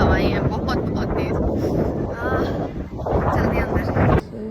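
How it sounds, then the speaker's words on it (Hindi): Strong, cold wind buffets the microphone outdoors beside a church in Bari, Italy, a loud continuous roar with gusts throughout, someone talking under it. "यहाँ बहुत ठंडी तेज़ हवाएं हैं, बहुत बहुत तेज़"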